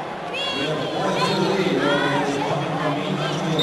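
A large, pretty full crowd of about 10,000 at a state high school wrestling final in the Tacoma Dome, a continuous hubbub of chatter and shouts with a few louder calls rising out of it.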